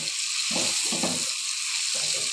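Olive pickle mixture being stirred in a pan, three or four scraping strokes of the spoon over a constant loud sizzling hiss, close and without talk.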